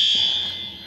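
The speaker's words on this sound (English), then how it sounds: "Not the fire alarm. I'm like walking in the building when it's going off" A building fire alarm sounds a loud, steady high-pitched electronic tone, close and continuous and fading slightly, with no voices.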